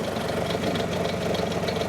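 A tractor engine drives a swing-type stump grinder, giving a steady, even low rumble with a fast regular knock, running on its own without speech.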